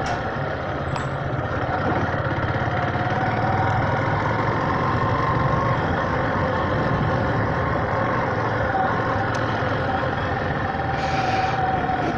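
Yamaha Factor motorcycle idling on a small-town street, a steady close engine drone that holds constant throughout with no change in revs.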